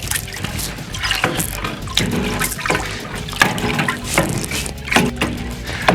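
Manure slurry is churned in a handling demonstration, making a continuous loud sloshing, gurgling wash of liquid with no clear breaks and no talking.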